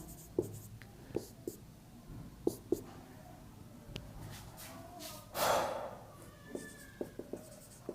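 Marker or chalk writing on a board during a biotechnology lesson: sparse short taps and scratchy strokes, close and faint, with one louder breathy burst midway and no speech.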